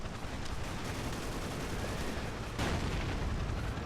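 Continuous rapid gunfire in the blocky first-person shooter Ace of Spades, dense cracking shots and booms forming a steady loud wash with a stronger burst partway through.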